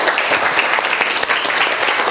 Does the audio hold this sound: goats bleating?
no